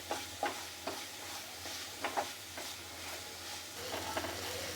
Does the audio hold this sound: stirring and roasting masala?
yes